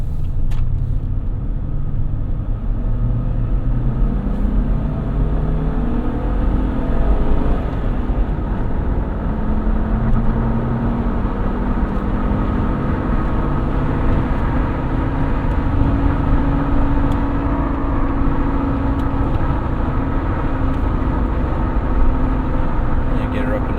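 A 2022 Jeep Wrangler Unlimited Willys engine drones steadily from inside the cabin as it accelerates, with rising tonal whine over constant road rumble, loud and continuous, no talking.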